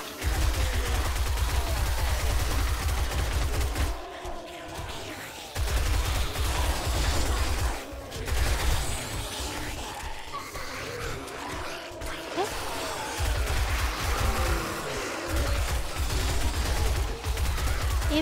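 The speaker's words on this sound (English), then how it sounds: "I'm just gonna shoot them normally for now" Gunfire in the game 7 Days to Die, a dense stream of shots and bursts over a loud low-end rumble, with brief drops into quieter gaps, continuing steadily throughout.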